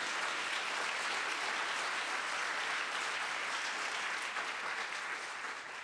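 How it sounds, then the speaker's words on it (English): Audience applause at a College of Marin event for author Isabel Allende: a dense, steady wash of clapping from a large crowd that holds for several seconds, easing slightly at the end. "Let me hear an applause for that."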